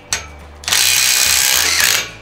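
A cordless impact driver on a scaffold clamp bolt nut gives a short tap, then a loud, close burst of rapid hammering that runs for over a second before cutting off.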